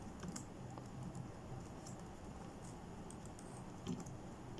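Quiet clicking of typing on a computer keyboard while Arduino code is entered, irregular soft keystrokes at a close distance with a low background hum and no voices.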